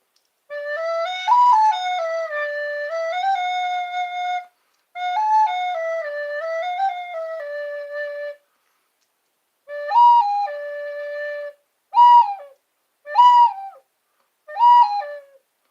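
A person whistling animal calls in imitation of a dove: long warbling phrases that rise and fall, then three short clipped whistles after pauses, clear and close with no talk.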